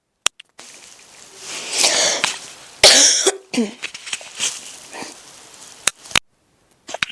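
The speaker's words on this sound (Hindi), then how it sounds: "थोड़ी बीच में खांसी आ जाती है कई बार पढ़ाते पढ़ाते" Several sharp coughs and throat-clearing sounds, close and fairly loud, with brief pauses and breathy sniffs between them.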